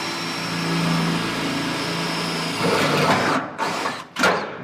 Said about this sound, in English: One of the tools that I use quite a bit is this 90-degree drill